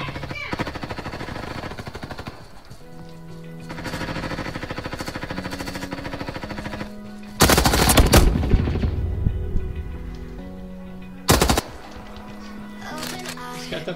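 Gunfire in a video game erupts in two loud rattling bursts of automatic fire, one long and one brief, cutting through steady, tonal in-game music.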